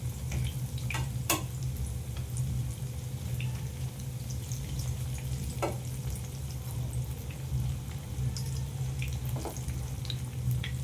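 Onions fry steadily in oil over medium heat for chicken pakoras, a constant crackling hiss punctuated by occasional utensil scrapes and clicks, with a low hum underneath.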